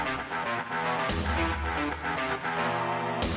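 Soundtrack music from the classic video game, dense driving metal-style playing with heavy low chugging and bright sustained tones, loud and continuous with no talking.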